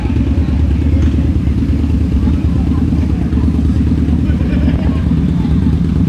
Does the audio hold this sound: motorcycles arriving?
yes